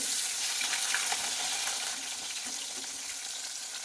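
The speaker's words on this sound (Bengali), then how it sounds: "এই পটলগুলো ভেজে নিয়ে আসছি" Pointed gourd (potol) rubbed with turmeric fries in oil in a pan, giving a continuous bubbling sizzle with light spits and pops that eases slightly toward the end, with no talking.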